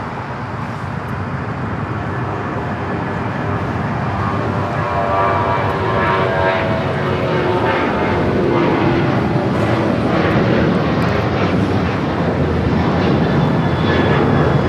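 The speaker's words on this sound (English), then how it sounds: "This is Alaska Airlines 798 taking off to Seattle on the 737-900ER" An Alaska Airlines Boeing 737-900ER departs LAX bound for Seattle, its engines a steady, loud broadband roar that swells gradually and holds strong throughout, with no talk.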